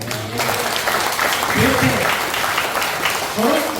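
A congregation at a church prayer revival meeting claps in a steady burst of applause, with a voice speaking over it.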